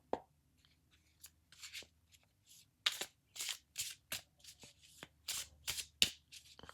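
Tarot cards are shuffled close up in a quiet room, a series of crisp riffling bursts and soft flicks spread unevenly across a few seconds.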